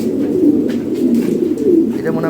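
Several fancy pigeons at a sale stall keep up a low, continuous cooing, soft rolling calls close by with muffled voices in the background.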